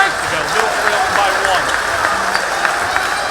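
At a high school basketball game between Middle Township and St Augustine, the crowd on both sides stirs and rises with a broad roar and scattered clapping, while a commentator talks over it.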